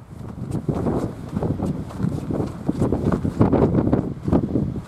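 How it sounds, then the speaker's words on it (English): Gusty wind roars steadily across an exposed mountain top at Sheep Rock above Hells Canyon, buffeting the microphone in a dense low rumble that swells and eases over the seconds, with no voices. "Whew, it's a bit windy up here."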